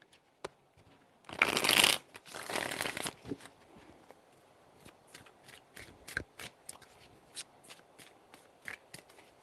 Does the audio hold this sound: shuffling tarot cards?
yes